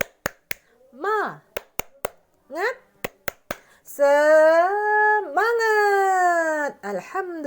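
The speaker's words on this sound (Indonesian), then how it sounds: "mari kita tepuk dulu biar lebih semangat lagi ya anak-anak" Schoolchildren in an Islamic religious lesson perform a rhythmic clapping chant, sharp claps punctuating short sung calls, then a loud drawn-out group shout of the chant's closing word.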